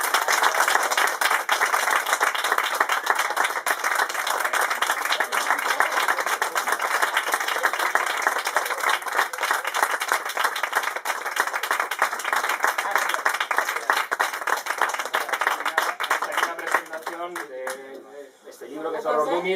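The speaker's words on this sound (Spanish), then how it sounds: "Yo lo que sí le diría es un grandísimo aplauso para Selby, que nos" A large audience at a book presentation claps in dense, sustained applause that holds steady for a long stretch before thinning out, with a voice starting to speak as it fades.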